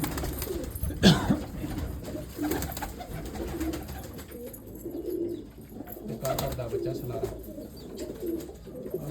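Red-eyed kamagar pigeons, old father and son birds kept by a breeder, coo in repeated low throaty rolls throughout, with a voice speaking over the calls.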